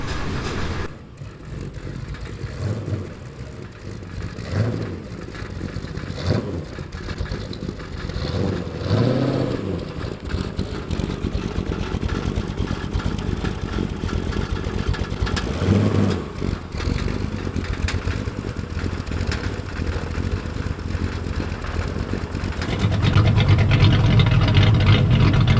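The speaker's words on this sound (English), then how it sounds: "we'll let it warm up for a while, make sure everything gets back to idle, a good idle" A V8 engine swapped into a Datsun 240Z idles steadily with a deep, continuous rumble, close by, with a few small swells in revs and a louder, fuller stretch near the end.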